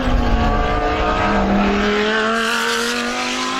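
GT race cars in a South African GT Racing Association round roar past at close range, loud engine notes sweeping and shifting in pitch, one car followed by another under continuous track noise.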